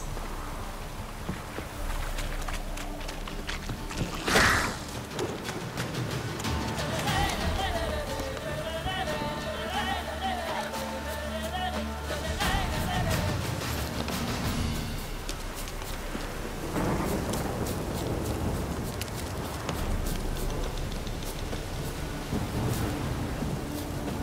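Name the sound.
heavy rain downpour in video game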